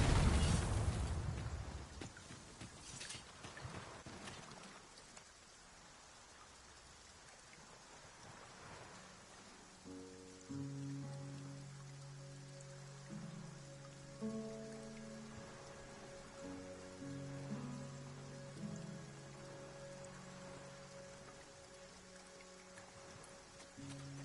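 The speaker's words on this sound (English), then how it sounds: "Shall we prop up our tent and get out of the rain for a spell?" Steady rain falls in the video game Dragon's Dogma 2 with a loud crack of thunder at the start, then a continuous soft patter under a quiet tonal music bed.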